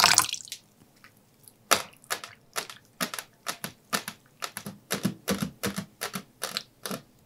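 A batter of flour, cornstarch, egg and cold water for crispy squash okoy is mixed in a bowl. Sharp irregular clicking taps of the utensil hit the bowl up close, with no talking.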